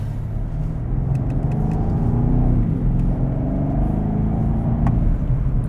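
BMW M850 with the 4.4-litre V8 pulling hard on the road, a deep, steady engine rumble heard from inside the car, loud and continuous without speech.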